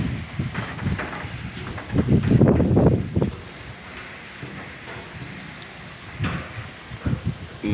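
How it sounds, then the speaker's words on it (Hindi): Heavy rain with strong wind in Karak pours down at a slant in a dense, steady hiss, swelling into a louder rush for a moment before settling back. "ये देखिए बारिश देखें कितना तेज़ बारिश है"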